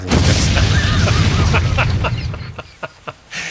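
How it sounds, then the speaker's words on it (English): A loud, rumbling blast that roars for a couple of seconds, then fades out, with a few sharp pops and crackles trailing after. "Can you do the explosion sound?"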